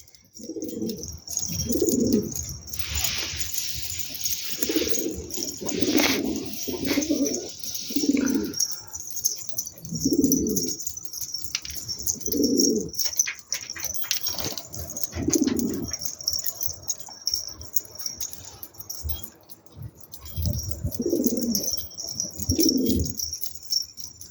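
Pigeons coo repeatedly in low, throaty bursts, close by, with a steady background hum and occasional higher chirps between the calls.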